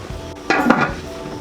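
A short metallic clatter as a lid is set onto a pot of goat caldereta, two quick clanks close by, then quiet.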